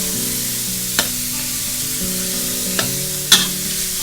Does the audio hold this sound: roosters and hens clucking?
no